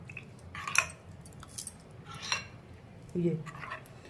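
A spoon clinks against a bowl as salted cold lapsi is mixed with squeezed lemon, making a few scattered metallic taps and a soft squelch near the end, with some talk nearby.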